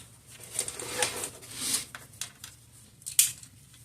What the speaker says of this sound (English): I'm going to cut off this casing.